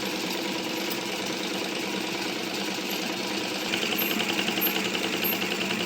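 A sewing machine runs steadily while stitching blouse fabric, its fast mechanical chatter continuous and close throughout, growing slightly louder toward the end, with no talking.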